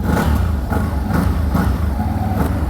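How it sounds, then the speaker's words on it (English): A 2021 CFMOTO CFORCE 1000 Overland ATV engine with Bosch EFI revs in repeated quick blips, rising and falling sharply from a rumbling idle, close and loud with no talking. "I just want to hear the engine, and the engine sounds good"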